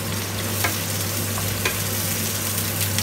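Garlic and crab paste sizzle steadily in a hot pan while being stir-fried for spicy Thai seafood noodles, a close, even hiss broken by faint scrapes of stirring.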